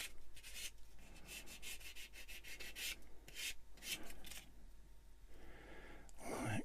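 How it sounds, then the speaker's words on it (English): A sander roughs down a small plastic model kit part for a cat-like robot's leg, giving repeated short rasping strokes in a steady back-and-forth rhythm, close and fairly quiet, with no talking. "I'll give it a quick bite with a sander"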